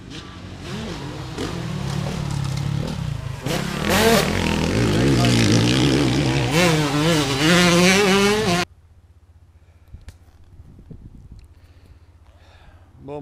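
A motocross motorcycle rides on the Dadouland MX track at Puget Ville in the Var. Its engine roars and revs loudly, rising and falling for about nine seconds, then cuts to a much quieter background with faint knocks.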